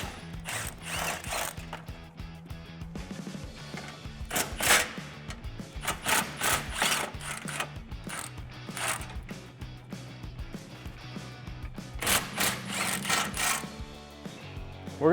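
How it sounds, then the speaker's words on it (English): Exhaust tip bolts on a 2015-2019 Dodge Challenger 3.6L Magnaflow axle-back are worked loose with a 10mm socket and ratchet, giving rapid clicking ratchet bursts and metallic rubbing, close and repeated throughout. "I'm going to remove these 3 bolts holding the tip on"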